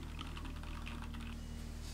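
Rapid typing on a Keychron K4 mechanical keyboard fitted with a wooden wrist rest, a quick run of close, crisp key clicks over a steady low background hum.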